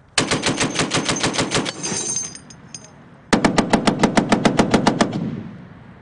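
An M2 .50 caliber machine gun fired by Marines on a range rips out two loud, close bursts of rapid evenly spaced shots, the first longer burst fading into echo before a second burst of about a dozen rounds.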